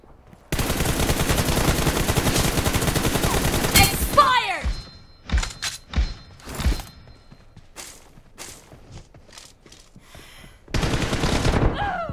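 A sustained burst of rapid automatic gunfire in the video game PUBG runs for several seconds, followed by scattered single shots and thuds, then another loud burst near the end.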